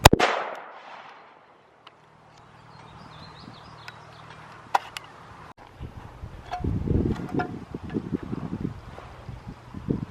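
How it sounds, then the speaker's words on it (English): A single .308 rifle shot strikes an AR600 Level III+ budget body armor plate during a test. A sharp crack at the start quickly decays into quiet, followed later by faint outdoor rustling and wind. "Second shot."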